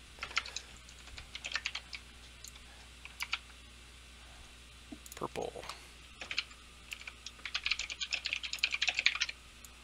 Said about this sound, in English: excuse the mechanical keyboard if you can hear it in the background